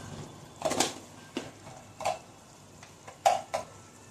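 Green masala paste, stone-ground and added to tomatoes for a prawn biryani, fries and gets stirred in a pan, heard as a few scattered scrapes and clinks over a faint sizzle with no talking.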